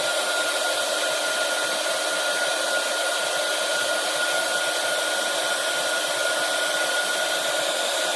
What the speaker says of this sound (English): I don't think you're going to like the sound of this heat gun now